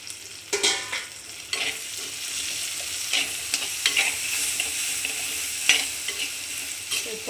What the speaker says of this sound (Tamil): அப்புறம் நறுக்கி வச்சிருக்கிற தக்காளி போட்டுக்கலாம்.